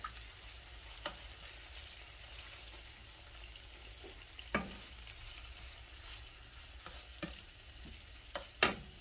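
Anchovies frying in a pan for puttanesca sauce while being stirred, a quiet steady sizzle broken by several sharp scrapes and clinks of the utensil against the pan.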